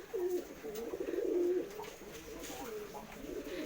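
Pigeon cooing in low, rolling phrases that repeat across the whole stretch, close and fairly soft, with faint background noise and no speech.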